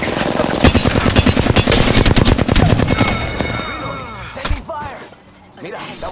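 Dense automatic gunfire in Apex Legends, loud rapid bursts for about three seconds, then trailing off into scattered mechanical clatter and a few softer thumps.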